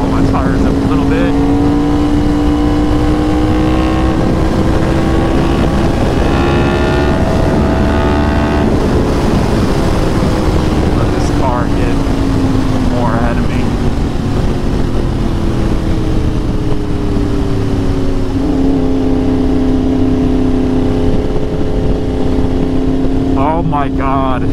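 A Yamaha R1 motorcycle engine revs loud and steady on twisty roads, its pitch climbing and falling through gear changes for the whole stretch, with heavy wind rush throughout.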